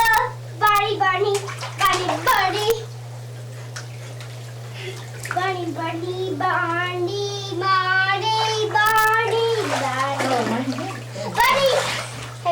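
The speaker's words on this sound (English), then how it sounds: "Hey, no splashing me. You got my hair wet." A child splashes water in a bathtub, with close sloshing and slaps under steady running water, while children talk and sing over the splashing throughout.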